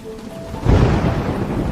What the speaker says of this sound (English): The rain is getting scary.